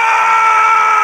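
A person lets out a sustained, loud, high-pitched scream during a music video shoot, one continuous held cry close to the microphone.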